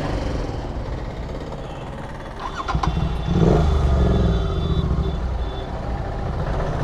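A Honda Dio scooter engine runs noisily nearby, a rough steady drone that grows louder and harsher midway with a short burst of clatter, then settles back to a constant hum.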